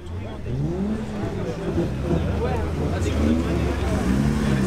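Car engines, including supercars such as Ferrari, Lamborghini and McLaren, rumble and rev as vehicles pull away one after another from a car meet, a steady low drone with rising pitch sweeps, moderately close.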